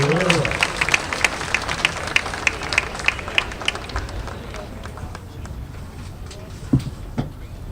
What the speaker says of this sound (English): Let's give Stevens Point Panthers a round of applause for outstanding player effort.